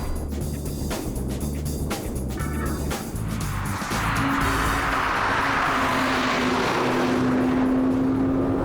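A Porsche being driven in a drift session on a track, with a loud engine roar and rushing tire and wind noise that swells and grows steadier in the second half, heard up close with no talk.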